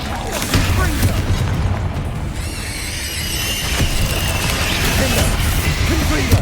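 Confringo fire spell blasts in the Hogwarts Legacy video game, a dense barrage of booming explosions and crackling impacts amid busy combat noise, continuous and loud throughout with a voice heard over the action.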